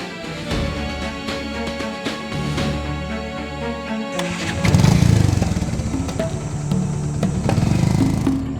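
A motorcycle engine idles with a steady low throb, then revs up louder and rougher midway, holding a strong, close, continuous drone.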